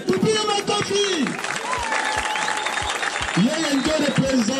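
An audience applauds at a gathering welcoming newly elected legislators in Fizi. The clapping is a dense, continuous patter that sits under loud speaking and voices heard over it.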